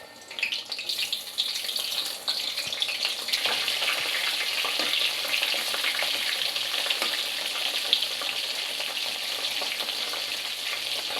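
Pointed gourd (potol) pieces frying in hot mustard oil: a dense, bright sizzle bursts up as they go in, then holds steady and close, with faint stirring clicks now and then.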